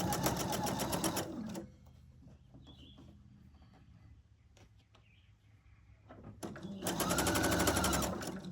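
A sewing machine runs in a fast steady burst while quilt pieces are stitched with a quarter-inch seam. It stops for a quiet stretch of faint handling noises, then starts up again and runs loud and close.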